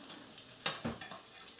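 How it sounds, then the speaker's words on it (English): Bacon cooking slowly in a pan on a stovetop gives a faint, low sizzle, with a couple of brief louder crackles partway through and no talk. "So this is cooking very slowly"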